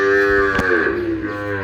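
A Sahiwal breed bull calf at a cattle sale gives one sustained, loud, close moo with a rich droning tone, lasting nearly two seconds with no speech.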